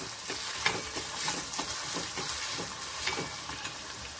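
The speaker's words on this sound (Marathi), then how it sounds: "ह्याच्यामध्ये आपल्याला बारीक केलेला कांदा घालायचा आहे. आणि छान परतायचंय." Finely chopped onion sautéing in a pan after mustard seeds, for a pea and fenugreek keema: continuous close sizzle with rhythmic stirring scrapes every half second or so, no voices.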